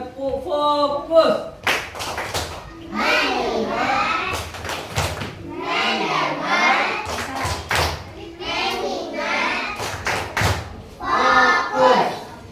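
Elementary school children in a classroom clap hands in short rhythmic bursts between bouts of group chanting and speech, loud and close.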